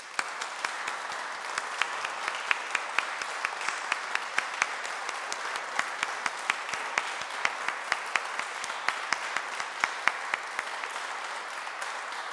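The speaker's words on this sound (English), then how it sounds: "let's give him a standing ovation" A church congregation rises in a standing ovation at a memorial service, sustained applause with many sharp individual claps standing out, steady and moderately loud throughout with no talking.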